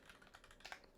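Mechanical keyboard fitted with GMK Mizu keycaps being typed on: a quick, faint burst of clacking keystrokes, close but very quiet, no talking.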